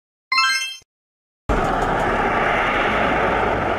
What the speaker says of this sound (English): The water bomber plane is a specialized aircraft that drops large volumes of water to extinguish wildfires.